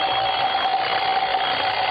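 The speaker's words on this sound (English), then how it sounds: "Coming awake, I heard the alarm we'd set go off" An alarm clock rings as a radio drama sound effect, a loud continuous bright bell ringing alone with no pauses, steady for two seconds.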